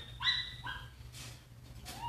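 A dog in a metal crate whimpers and yips in short high cries, with a few soft rustling shuffles and low background hum between the sounds.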